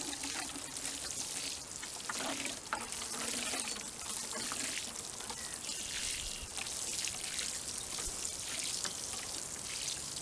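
Water is poured from a 2-gallon pail onto garden soil being prepared for carrots, a steady hissing splash and trickle that continues unbroken for about ten seconds, close and moderately loud, with no talk.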